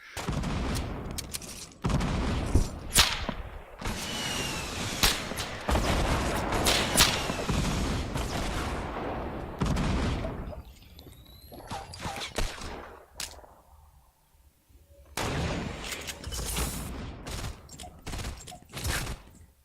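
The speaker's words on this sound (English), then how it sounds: "That's the new FAMAS." FAMAS rifle fire in a Fortnite 50v50 match: bursts of close, sharp gunshots in rapid volleys with booms and thuds, a quieter gap midway, then more firing resuming toward the end.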